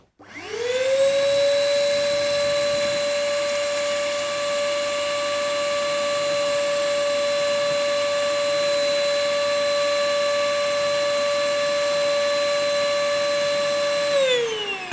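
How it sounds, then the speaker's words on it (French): An ash vacuum cleaner, sealed with a kitchen cloth, runs steadily while cleaning out a hybrid wood stove, its motor whine rising quickly at start-up, holding a loud, even pitch for about fourteen seconds, then winding down at the end. "nous utilisons pour cela un aspirateur à cendres et un linge de cuisine pour assurer une étanchéité optimale"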